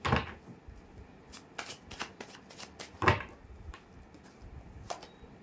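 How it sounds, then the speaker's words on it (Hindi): Tarot cards being shuffled by hand during a reading: quick papery riffles and slaps, several bursts of card flutter with one fuller shuffle midway, close and moderately loud, with no talking. "पहले कार्ड्स निकाल लें।"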